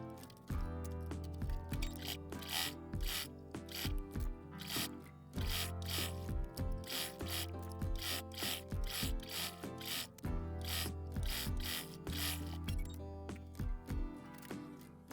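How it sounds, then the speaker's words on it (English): A sewing machine top stitches elastic onto a swimsuit. It sounds close and rhythmic, running in short rattling bursts of rapid needle clatter separated by brief pauses as the fabric is repositioned. "Now we are stitching this on."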